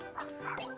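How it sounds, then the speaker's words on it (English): A short dog bark or yip from a dog character in Pac-Man World 2: Re-Pac, brief and close, with a whimpering tone. "There's a dog."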